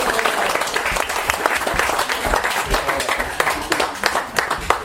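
Guests at a wedding reception applaud after a congratulatory speech, a loud, dense burst of many hands clapping with sharp individual claps standing out, and no talk over it.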